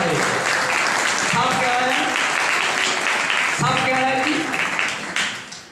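A church congregation claps loudly and continuously in unison, a dense sustained wash of applause. Voices call out over it at times, and the clapping fades near the end.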